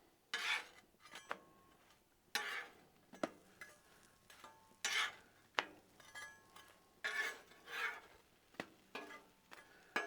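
Buttered bread is flipped on a Blackstone griddle, heard as a series of spaced metal spatula scrapes and clacks with a faint sizzle underneath, close and distinct, about seven or eight strokes.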